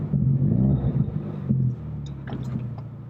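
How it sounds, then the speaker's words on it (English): A turbocharged four-cylinder Ford Mustang accelerates hard, a loud, close engine note that rises and holds, then drops at a quick gear shift before pulling again more quietly with faint turbo and intake noises. "getting used to hearing a turbo coming out of a Mustang"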